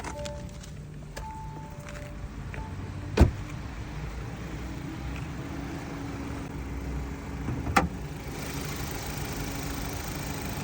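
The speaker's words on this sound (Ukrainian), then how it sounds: "Автомобіль працює рівно." An Audi Q7's engine idles in a low, steady hum, with two brief sharp knocks cutting through partway.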